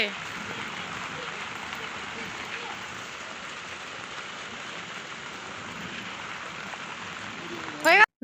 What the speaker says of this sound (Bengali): এটা গুড়ি গুড়ি মানে ভালোই বৃষ্টি হচ্ছে